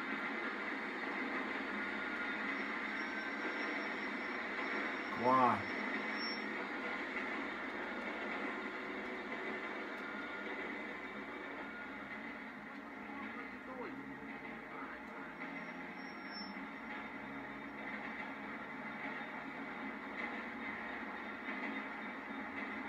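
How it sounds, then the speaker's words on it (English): A train passes in a video game, a steady mechanical rumble and rattle running through the whole stretch, with a person talking briefly over it. "Sorry, I have to wait for a train."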